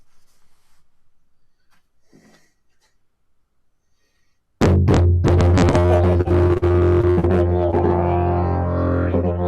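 After a few quiet seconds with faint rustling, a loud droning horn-like tone starts abruptly and sustains with a buzzing, pulsing rhythm, close and continuous.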